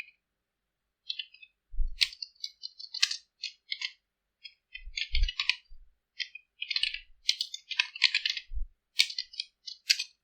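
A name being typed into an Excel spreadsheet on a computer keyboard, with close, irregular key clicks in quick clusters and a few heavier thumps between pauses.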